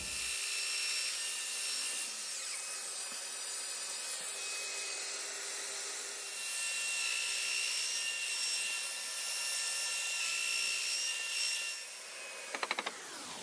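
A domino joiner plunges tenon mortises into a recycled wood dining table, with steady close whirring and cutting running nearly throughout, then a few brief clacks near the end.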